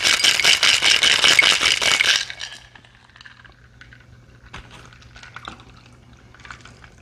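Cocktail shaker with ice and a non-carbonated mixed drink, shaken hard in a loud, dense rattle for about two seconds, then quiet with faint clinks and small handling sounds.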